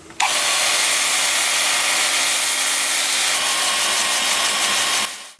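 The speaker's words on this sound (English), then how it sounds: "I'm going to start sanding now with my 2-inch sanding disc with 80 grit" A steady abrasive whir of a 2-inch 80-grit sanding disc against wood spinning forward on a lathe at 350 RPM, continuous and fairly loud for about five seconds, then stopping abruptly.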